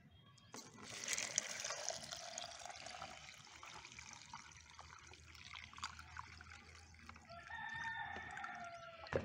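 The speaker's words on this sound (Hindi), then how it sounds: "अब इस यूरिया में मैं ये पानी डालूँगा।" Water is poured into urea in a container for making leaf mold compost, a steady liquid splashing and trickling that fades, then a rooster crows in the background near the end.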